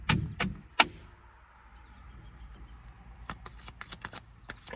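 Tarot cards shuffled and drawn for a general reading, heard as a few sharp snaps followed by a quiet pause and then a run of rapid papery riffles and flicks, close and clear, with no talking.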